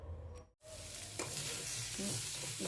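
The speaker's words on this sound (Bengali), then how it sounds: "দেশি চিংড়ি মাছ দিয়ে এবং নতুন দেশি আলু এই যে বাজি করে নিচ্ছি" Local shrimp and new potatoes frying and being stirred in a pan, a steady loud sizzle broken by a brief silence near the start, with scraping stir sounds and clinks throughout.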